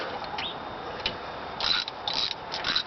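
A ratchet works a bolt loose on a car engine during spark plug and belt work, giving several short bursts of clicking that are close and fairly quiet with pauses between them.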